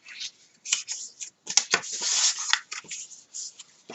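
Cardboard being creased and folded by hand while assembling a tissue box, giving a run of close, dry scraping and rubbing strokes with short pauses between them.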